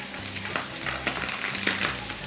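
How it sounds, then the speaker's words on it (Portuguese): Sliced bacon sizzles and crackles in a pan with no added fat, a steady frying hiss broken by small pops and occasional stirring scrapes, close and continuous with no voices. "Bacon já está bem frito, já está douradinho."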